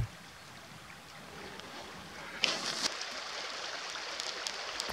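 Babbling brook beside a coffee campfire in the Savukoski wilderness of Finnish Lapland, a steady soft wash of running water throughout, with a brief crackling burst around the middle.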